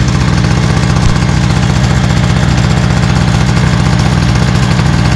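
A small two-stroke engine idles close by while warming up, giving a loud, steady, rapid low-pitched putter with a dense, even firing rhythm and no talking.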